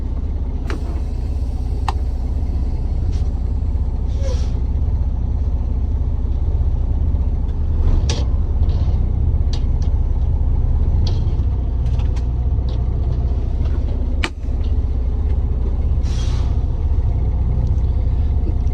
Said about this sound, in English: I will drive 5 feet forward with my hands off the steering wheel